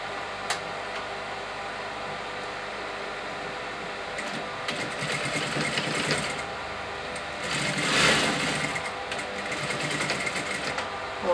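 A sewing machine stitches a pinch pleat pelmet valance, a continuous whirring run up close with a louder surge of stitching near the end.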